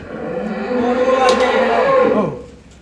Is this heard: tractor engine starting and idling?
no